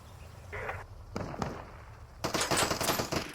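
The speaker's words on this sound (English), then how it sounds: "Ooh, taking a couple shots there." Gunfire in the Deadside survival shooter: a few scattered reports early on, then a dense, crackling volley of rapid shots toward the end, moderately distant and fairly faint.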